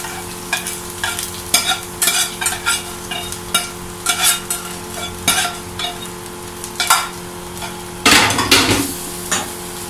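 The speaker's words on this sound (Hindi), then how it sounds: "इस प्याज को हम इसमें शामिल करेंगे।" Onion frying in a pot for chicken haleem, stirred with repeated loud scrapes and clanks of a spoon against metal over a constant sizzle, with a burst of louder sizzling near the end; nobody talks.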